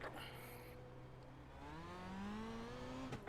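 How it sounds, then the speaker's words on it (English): A pace car in the iRacing video game drives past on a dirt track at Lernerville, its engine whine rising steadily in pitch as it approaches over a continuous racing drone. "There's a pace car by."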